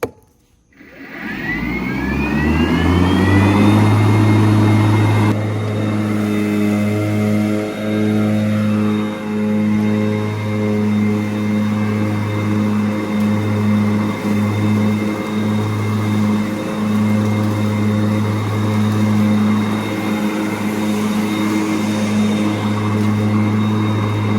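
An electric zero-turn mower spins up with its blades engaged, a rising whine settling into a loud, steady hum with layered high tones, close by and continuous with no talking.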